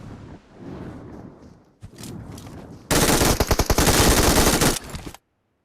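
Rapid bursts of PUBG Mobile gunfire crack loudly and close, a dense volley of shots that stops abruptly, preceded by quieter rustling movement.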